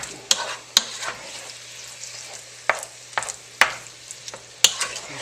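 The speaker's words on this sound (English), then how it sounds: "Just making sure to stir to incorporate the tomatoes with everything else that we had in there previously." Tomatoes are stirred into a hot, sizzling pan. A close, steady fry hiss sits under a series of sharp, irregular spoon scrapes and clacks against the pan, with no talk.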